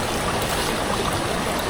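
A fast-flowing river beside a camping spot by the riverbank rushes in a dense, steady, broadband wash with no pauses, loud and close.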